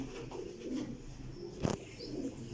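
Breeder pigeons in a loft coo softly at close range, with low, murmuring calls under quiet background noise and one brief louder rustle.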